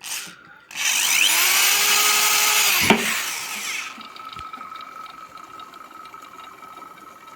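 A whirring mechanical whine from a spinning car alternator off a Renault Scenic 1.9 diesel holds steady for a few seconds, then winds down, leaving a faint hum and light clicks.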